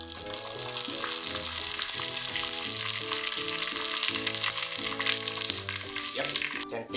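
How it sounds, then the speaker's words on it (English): Salmon skin drops into hot oil for deep frying and gives off a loud, continuous crackling sizzle that stays steady for several seconds, while music plays underneath. "we're going to deep fry the skin. Watch closely what happens when I put this in the oil"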